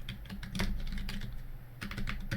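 Computer keyboard typing and mouse clicking during Unreal Engine 4 material editing, with a steady run of close, moderately loud keystrokes and clicks in irregular bursts, no voices.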